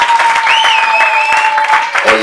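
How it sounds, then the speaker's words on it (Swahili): A church congregation at a gospel seminar claps for children, steady dense applause throughout with a sustained tone and voices mixed in. "Mpeni Yesu makofi kwa ajili ya watoto hawa."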